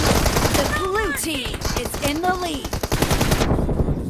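Pistol fire in the mobile game PUBG Mobile during a team deathmatch: rapid, sharp shots crack in dense bursts throughout, loud and close, with a voice talking over the gunfire.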